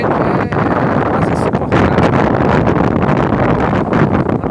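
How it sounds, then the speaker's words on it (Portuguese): Strong wind roaring nonstop across a beach, loud and buffeting the microphone with heavy low rumble throughout. "Devido ao vento muito forte, entendeu?"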